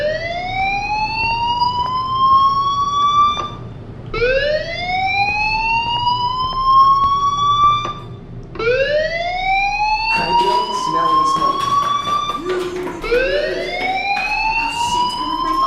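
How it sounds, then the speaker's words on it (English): Fire alarm in the video game Life Is Strange, a repeating rising electronic siren wail that sweeps up about every four seconds, loud and steady throughout with no speech. "do you hear that fire alarm? That means you should be outside."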